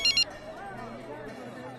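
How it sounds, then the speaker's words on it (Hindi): Phone ringing for an incoming call in an animated fantasy series, a short electronic double trill at the very start, then a speaking voice and light background tones. "अरे देखो, मिखाइल का फोन भी आ गया"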